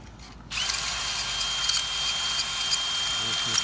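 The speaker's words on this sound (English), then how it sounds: "We're gonna hone it for a couple more seconds after we get all the grits of the metal and everything out." A cylinder hone spins inside a Yamaha YZ125 two-stroke cylinder, a drill starting abruptly and whirring steadily with faint rattly scraping for a few seconds, close by.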